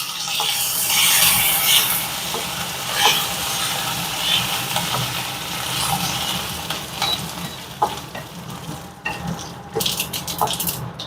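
Curry leaves and red chillies sizzle and crackle steadily in hot oil, with stirring clatter and a few sharp pops near the end, close and fairly loud throughout.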